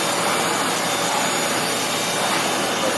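A heavy industrial sewing machine runs continuously up close, a loud, steady mechanical whir and dense hum with no breaks and no talking.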